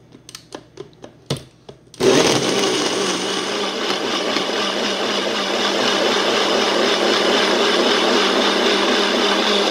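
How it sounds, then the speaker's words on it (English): Electric blender whirring steadily as it blends cucumber, lime and ginger with water for juice, starting abruptly after a few short clicks and knocks and running loud and constant to the end. "We'll put them now in the blender and we blend them."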